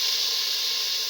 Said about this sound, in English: Now put in the crispy bacon